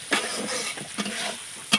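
Food being stirred in a pan, a few soft spoon scrapes and shuffles over a faint sizzle, close and brief.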